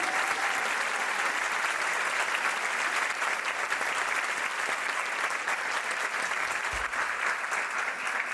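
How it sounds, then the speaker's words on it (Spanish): Audience applause greeting a singer as she takes the stage at a song festival, steady dense clapping at full strength throughout with a brief low thump near the end, no voices over it. "Un aplauso."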